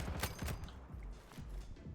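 Gunfire in a Roblox war game: a quick cluster of faint sharp shots early on, then a few scattered softer pops and mechanical clicks at low volume.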